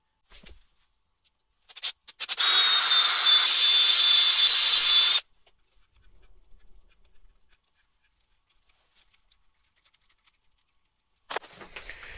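A power drill whirs steadily for about three seconds while bored into the mounting holes for a three-axis DRO on an AMA25 milling machine, loud and close, then stops, followed by faint workshop clatter and a brief final burst.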